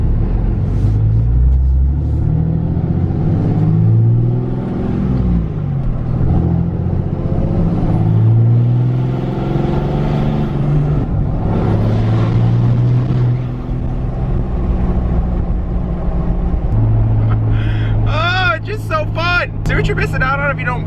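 A pickup truck with its warranty voided rumbles and drives, its deep engine tone rising and falling through revs, loud and close, while someone talks over it and a brief sharp sound spikes near the end.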